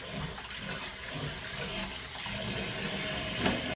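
Salted napa cabbage and radish being rinsed in water for kimchi: a steady, close rush of running water, with splashing and sloshing throughout, no voices.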